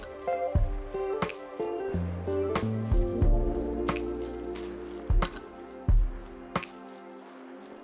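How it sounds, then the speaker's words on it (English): pH adjuster drips into a hydroponic nutrient solution of Masterblend and water, which is then stirred. Scattered drips and wet splashes sound close by, with faint sloshing between them. "We'll do this by slowly adding pH adjuster, mixing, and then checking."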